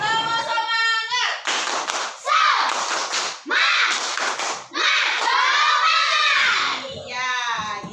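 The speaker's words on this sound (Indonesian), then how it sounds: "coba sekarang kita lakukan tepuk semangat dulu" Children do a rhythmic 'tepuk semangat' clapping chant in a classroom, with bursts of hand claps alternating with shouted chant phrases, close and loud, and an adult voice at the start.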